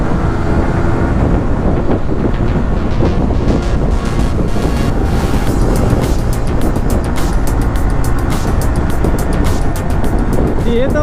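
Motorcycles ride fast on an open road on a solo ride through Ladakh, with loud, constant engine roar and heavy wind buffeting the microphone throughout.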